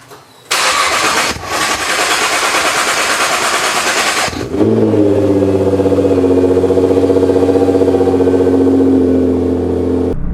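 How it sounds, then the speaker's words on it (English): A Nissan GT-R cold start in a garage: the starter cranks loudly for a few seconds, then the engine catches and settles into a strong, steady, droning high idle close by. "Let's start today's video off with a cold start in the garage."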